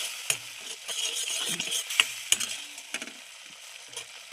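A spoon scrapes and stirs cooked green chillies mixed with crushed peanut and sesame powder in a pan, in a steady run of close, scratchy strokes over a soft background sizzle.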